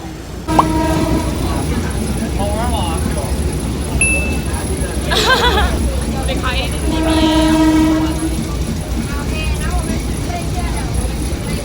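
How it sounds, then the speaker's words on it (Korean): A train rolls through a market in Bangkok, Thailand, its horn sounding in short harmonic blasts over steady rumble and clatter, with voices talking nearby throughout. "기차를 탔습니다."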